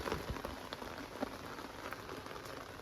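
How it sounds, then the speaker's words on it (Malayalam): Steady rain pours down on surfaces at a staycation stay, a dense, even patter of drops with occasional louder splashes and no voices. "മഴ പെയ്യുന്നു"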